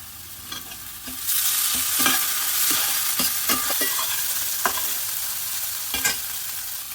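Garlic paste, ginger and green chilies hit hot oil and flare into a loud sizzle, then fry on steadily while a utensil scrapes and taps the pan several times.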